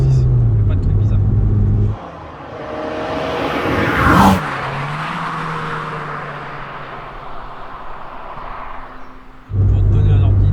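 A Peugeot 106 Rallye engine drones inside the cabin while the car drives on a circuit, loud and close, with shifting revs and a voice talking over it.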